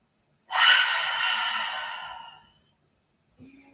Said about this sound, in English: One more deep breath here.